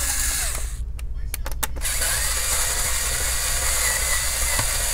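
A power screwdriver whirs steadily and close up while it unscrews the bottom screws of an Asus TUF F15 FX506L laptop, with a few brief ratcheting clicks near the start and no talking.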